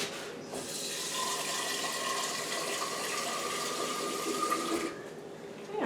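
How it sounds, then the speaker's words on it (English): A steady stream of water runs into an Instant Pot pressure cooker pot for several seconds, close by and fairly quiet, ending abruptly. "so I can put a little bit more water in there"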